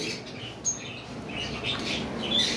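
Caged birds at a bird market, including pair birds, chirping and squawking in quick, scattered bursts at moderate distance over a soft background hum.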